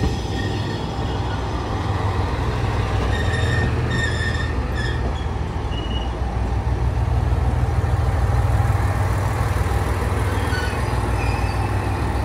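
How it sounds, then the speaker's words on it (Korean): Detective Conan themed train pulling into a station in Japan, a steady rumble of wheels and motor with faint squeals and a few short tones, fairly close and continuous. "돌아가는 길 나를 마중 나온 것은 운이 좋게도 코난 컨셉의 열차였다."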